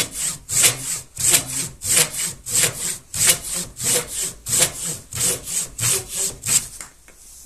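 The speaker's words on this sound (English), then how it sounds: "go full pulls and I count them to see how many goes through, to see how many pulls it takes to go through" A Husqvarna pruning saw cuts through wood in full strokes, sixteen or so rhythmic rasping pulls in quick, even succession, loud and close with no talk.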